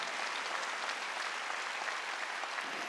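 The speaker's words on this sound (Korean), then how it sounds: "빨리 박수 치라고" Sustained applause from a congregation during a Sunday church worship service, a steady dense wash of clapping that continues evenly throughout with no voices over it.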